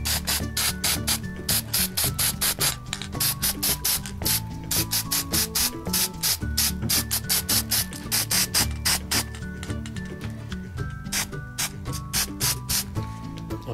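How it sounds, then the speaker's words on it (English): Black spray paint bursts repeatedly from a can onto a toy car, many short close hissing sprays in a quick irregular rhythm, with rattling and clicking between bursts. "let's get the black spray paint"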